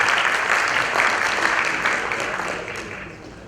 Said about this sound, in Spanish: por favor pido un fuerte aplauso por su presencia en este encuentro.